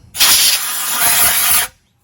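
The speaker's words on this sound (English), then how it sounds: "vacuum shaft here, so I just give that a little blowout." Compressed air blown through the shaft tube of a Dyson stick vacuum, one loud continuous hiss lasting about a second and a half, close up, then cut off sharply.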